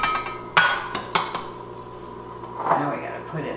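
Sauce being stirred into jambalaya in a pot, with a few sharp metallic clinks of a utensil against the pot and softer scraping and sloshing between them.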